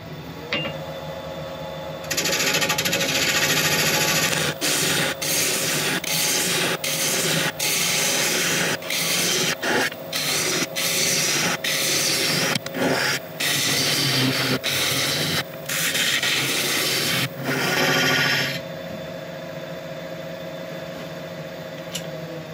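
A woodturning tool cuts away a tenon on spinning monkey puzzle wood, a loud, continuous rough scraping hiss with rapid rhythmic interruptions, set against the steady hum of the running lathe before and after the cut.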